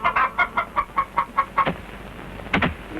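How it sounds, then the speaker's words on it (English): Chickens at a village in Sarawak, Borneo, cluck in a quick regular series of short notes, fairly close, followed by a pause and a couple of sharper clucks near the end. "The chickens can get at it too, and another job for the old women is to scare the chickens off."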